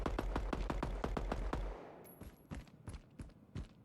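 Rapid automatic gunfire in the DeaDrop shooter game, a tight burst of loud repeated shots followed by scattered single shots and clinks of spent shells hitting the ground.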